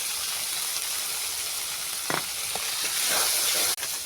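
Goat meat dropped into frying spices for biryani gives a loud, steady, hissing sizzle close by, with a few brief clinks and a sharp click near the end and no voices.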